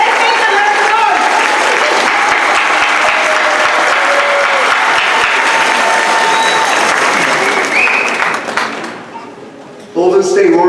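Sustained loud clapping from a convention crowd at a community organizing group's 20th anniversary, with cheers and an amplified voice over it, fading out near the end before a brief burst of sound returns.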